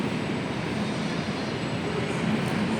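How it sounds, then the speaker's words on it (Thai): BTS Skytrain pulling into Phrom Phong station in Bangkok, a steady, broad rumbling roar of the elevated train that holds level throughout, heard from the platform at moderate volume without talk. "รถไฟฟ้ามาอีกแล้วพี่น้อง"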